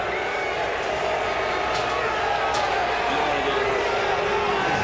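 Crowd noise at a NASCAR race, the 2017 First Data 500, forms a steady, dense roar throughout, with a few brief sharper bursts rising above the wash.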